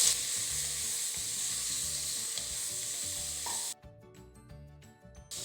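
Ginger garlic paste with coriander, pepper and garam masala powders frying in a pan for chicken kurma, a soft steady sizzle with light stirring, then a sudden drop to near silence partway through.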